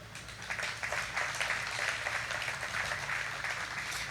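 An audience at the 2022 Cypress State of the City event applauds Cypress Land and Worland Investments with steady, sustained clapping that fills the room evenly from start to finish, with no voices over it.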